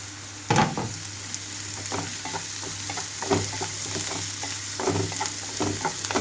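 Onions and green chilies fry in a pan, with a steady sizzle throughout and occasional louder stirring scrapes and clinks of a utensil, close up and without talk.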